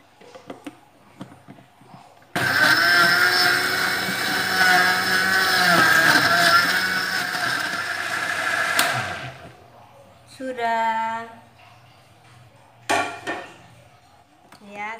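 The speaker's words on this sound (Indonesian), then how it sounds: "Langsung kita blender jadi satu ya." An electric blender whirring loudly as it mixes Oreo cake batter with milk, a steady motor drone for several seconds that then cuts off, followed by someone talking.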